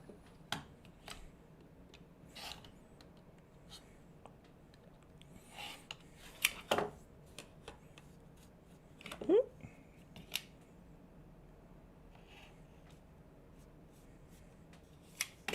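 Scissors trim fabric for a Farmer's Wife quilt block, making a scattering of quiet, close snips spread across the stretch with pauses between them, over a low room hum.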